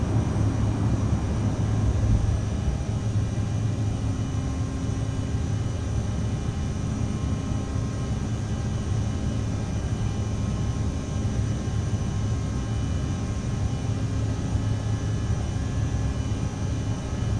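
Steady, loud engine roar of an Aerosoft CRJ900 regional airliner climbing out after takeoff from Edmonton in Microsoft Flight Simulator, a continuous jet drone with faint tonal whine and no talk.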